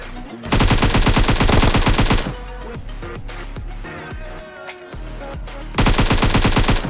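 Rapid automatic gunfire from a shooter video game, loud and close in two sustained bursts separated by quieter in-game shots and effects, with no talking over it.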